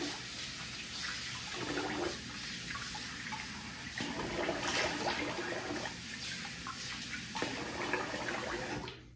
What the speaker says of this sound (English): Let me wet the face here, or rinse the face.